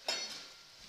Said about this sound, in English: You hear that? There's a little sizzle.